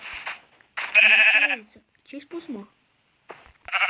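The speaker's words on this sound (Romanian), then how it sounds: "Eu văd 2 oi acolo." Sheep bleat in a blocky crafting video game, two or three short electronic bleats separated by pauses, with someone speaking briefly between them.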